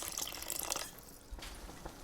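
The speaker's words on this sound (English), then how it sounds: "in goes about 1 cup of water just to thin it down and not create a mess" About a cup of water pours into a simmering paneer makhani gravy in a pot, making a close, continuous splashing, gurgling sound that eases off into soft bubbling.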